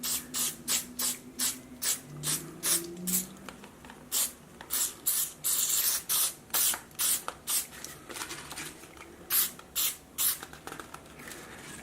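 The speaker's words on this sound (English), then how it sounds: "we spray paint the pen" Spray paint being sprayed onto a pen in quick, rhythmic short bursts, each a sharp close hiss separated by brief gaps, repeating steadily with no voices.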